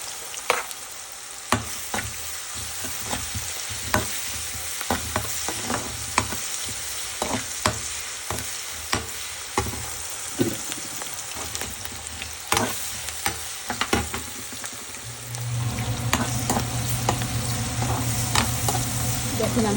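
Onions fry in a pan with a loud, continuous sizzle, punctuated by sharp, regular spatula strokes against the pan; near the end the frying swells into a denser hiss.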